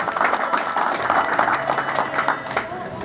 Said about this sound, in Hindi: तो इनके लिए एक बार जोरदार तालियों से स्वागत